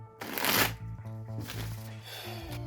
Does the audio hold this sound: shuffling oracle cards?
yes